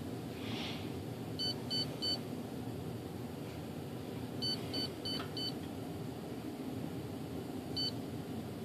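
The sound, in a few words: electronic speed controller beeping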